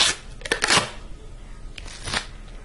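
Scotch duct tape is peeled off its roll in a few short, crackling, sticky tearing bursts, close and fairly quiet, with brief pauses between pulls.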